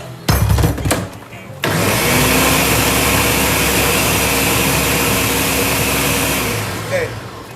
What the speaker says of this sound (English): And it needs to be blended a little more.